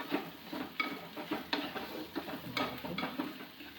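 Curry leaves are stirred in a cooking pan, a close, rhythmic series of scraping strokes and light taps with a faint sizzle underneath.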